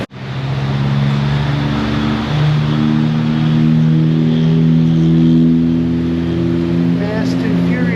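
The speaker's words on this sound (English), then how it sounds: "Engine turns, that's a good sign." A car engine starts with a brief crank and catches, then settles into a loud, steady run with harmonic hum and slight rises in revs, continuing without pause for several seconds.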